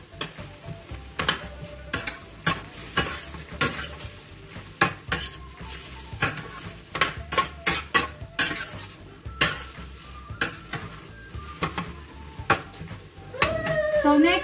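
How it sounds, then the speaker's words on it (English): Beef bouillon gets stirred in a pot of pork goulash until it melts, with repeated sharp spoon clinks against the metal and a soft sizzle underneath, ending in a louder scraping flourish. "I use the beef boil-on. Just mix until the boil-on is melt"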